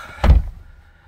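A single car door of a Mercedes-AMG GT R Pro shuts with a short, close, solid thunk, then a brief fading rattle into quiet.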